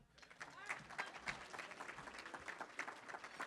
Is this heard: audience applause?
yes